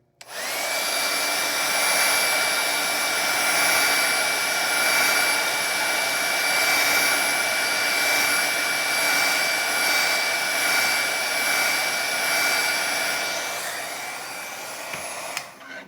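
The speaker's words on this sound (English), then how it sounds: "I'm gonna just hit this really quick with my heat gun" Handheld heat gun drying wet watercolor paint, a steady loud whooshing blower drone with a high motor whine, running continuously for the whole span and then cutting off at the end, with no talking.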